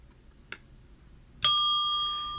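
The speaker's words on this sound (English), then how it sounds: "Don't worry, you'll hear a lot of bell ringing here." A small bell gives a faint tap and then one bright, clear ding, a single strike whose ringing tone lingers and slowly fades in an otherwise quiet room.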